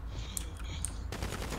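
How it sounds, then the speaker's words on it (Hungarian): Distant gunfire sounds outside in GTA V roleplay, a few faint sharp shots followed by a short burst of rapid fire, quiet and muffled. "itt most valami lövöldözés van kint"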